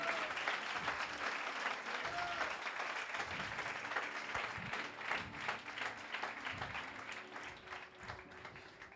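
A church congregation breaks into loud, sustained applause honoring the Holy Spirit, dense clapping filling the room steadily throughout, with faint voices and a brief shout mixed in.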